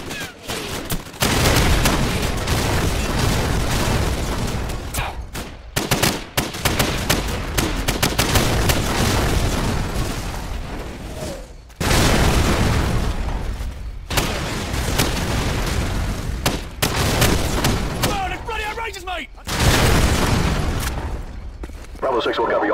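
Call of Duty 4: Modern Warfare battle with a fire mission: heavy explosions and gunfire roar almost nonstop with brief breaks, loud and dense, with voices mixed into the din.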